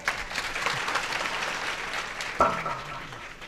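Applause from the women in the audience at a Ram Katha religious discourse, a moderate sustained clapping wash lasting a few seconds, with a brief louder knock partway through.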